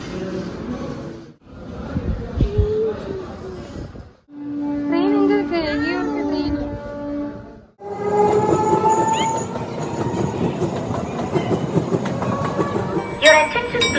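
Train noise at Pallavaram railway station: rumbling rail sounds, a sustained horn-like tone midway, and busy platform ambience with faint voices throughout.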